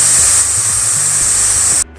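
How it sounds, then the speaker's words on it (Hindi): A pressure cooker on full flame, cooking a green chickpea curry, vents steam through its whistle as a loud, steady, high hiss that lasts nearly two seconds, then cuts off abruptly. "अब हम प्रेशर कुकर का ढक्कन लगाकर 3 विसल आने तक फुल फ्लेम पर"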